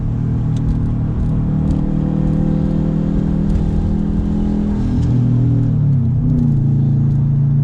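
A modded Subaru WRX turbocharged engine rumbles steadily up close, with a low droning tone that shifts pitch slightly as it revs, and light turbo fluttering at the top end.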